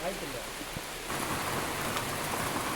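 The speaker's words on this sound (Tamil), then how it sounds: "இன்னும் மழை நிற்கல" Rain falls steadily in the Kanyakumari countryside, a dense, even hiss that grows noticeably heavier and louder about a third of the way through.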